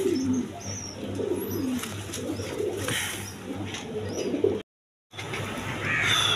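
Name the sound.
male Gorra pigeon cooing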